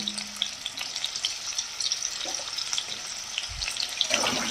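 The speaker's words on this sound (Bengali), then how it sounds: "এবার এটাকে আমি ভালো করে ভেজে নেব" Small potato pieces frying in oil with turmeric and salt: a soft, steady crackle with occasional scraping strokes of a spoon stirring in the pan, fairly quiet and close.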